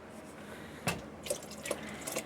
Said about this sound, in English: I'm going to add additional 2 cups of water